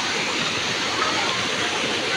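Mountain spring water pours steadily into a resort swimming pool in Infanta, Quezon, a continuous close rushing splash with no pauses.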